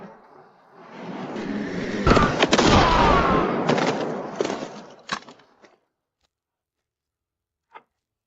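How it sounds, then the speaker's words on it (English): Gunfire breaks out on enemies in a drama: a dense, roaring burst of shots and booms builds over a few seconds, then cuts off into quiet, with one last faint crack afterward. "Open fire on them."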